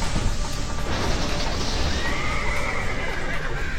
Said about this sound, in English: 4 horses.